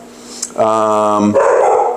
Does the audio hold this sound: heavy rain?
no